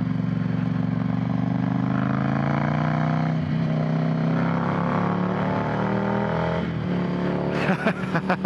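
A Ducati Monster 797 motorcycle is ridden at a steady pace, its engine droning loudly and close with gradual pitch rises and falls, ending in a short burst of rattly jolts.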